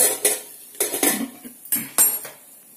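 A lid clanks onto a cooking pot of frying onions and green chillies, several sharp metallic knocks and clinks in quick, uneven bursts, close and fairly loud with no talking.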